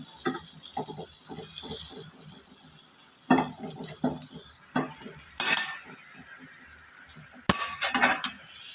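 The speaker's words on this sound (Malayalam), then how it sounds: "ഈ ചൂടായ എണ്ണയിലേക്ക് അരിഞ്ഞു വെച്ചിരിക്കുന്ന സവാളയും കൊച്ചുള്ളിയും കൂടെ ചേർത്ത് കൊടുക്കാം" Chopped onions and shallots sizzle in hot oil in a pan, with repeated scraping and clinking from stirring and a few louder splashy bursts.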